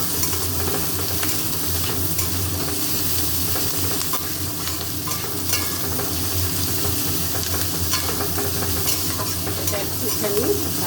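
Capsicum and parboiled carrot frying with onions in a pan, a dense, continuous sizzle with constant stirring and scraping, close and steady throughout with no talking.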